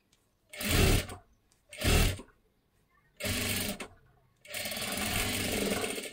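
A sewing machine runs a double line of stitching on a katori blouse in four close, loud bursts: two short ones, then two longer steady runs with brief silences between.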